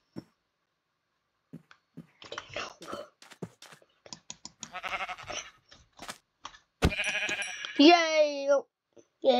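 Sheep in Minecraft Java Edition bleat loudly near the end, a long wavering call following scattered game clicks and a stretch of speech.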